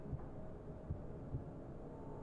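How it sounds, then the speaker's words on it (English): Heartbeat effect in the horror video game Amnesia: The Bunker: three low, dull thumps spaced about half a second apart over a steady low hum, fairly quiet and with no voices. "If I can hear my heartbeat, it's gotta mean he's close"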